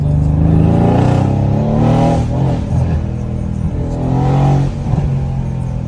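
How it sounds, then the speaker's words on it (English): A Mercedes C63 pulls away with a loud, steady engine note that swells in two surges as the revs climb, close by, with no talk over it. "now I'm driving away in a C63"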